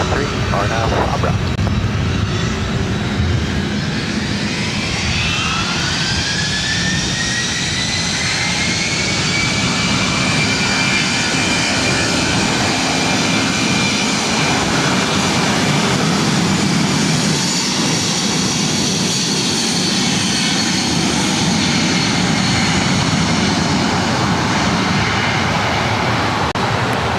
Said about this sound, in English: This is Delta Airlines 403 taking off to Boston on a 757-200.